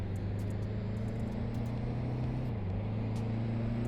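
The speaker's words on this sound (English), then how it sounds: "I'm gonna rev it all the way up, get my stopwatch ready, and 3, 2, 1, go" A 2022 Honda Civic Si, front-wheel drive, accelerating from 0 to 60 in the Roblox game Greenville, a steady droning engine tone that rises, dips briefly at a gear change, then climbs again, with no talking.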